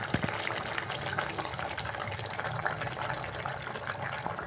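Water poured from a vessel into a cooking pot of Bengali fish curry in a home kitchen, a steady close splashing gush running throughout.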